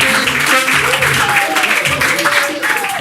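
A studio audience applauds loudly on a French television entertainment show, with a continuous wash of clapping under voices and some tonal sound throughout.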